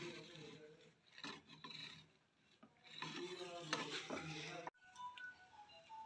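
A spatula scrapes and rasps a cooked spinach and paneer cheela loose from a hot tawa griddle, giving repeated close scratchy strokes with pauses between them while someone talks in the background.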